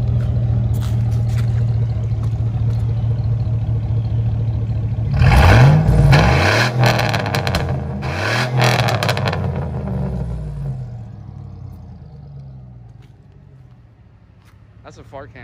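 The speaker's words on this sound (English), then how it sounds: "I was supposed to record his exhaust like 2 weeks ago when he finished it" A single-cab Cateye pickup with a custom straight-pipe dual exhaust idles with a deep rumble, then gives two loud, sharp revs before settling and fading away.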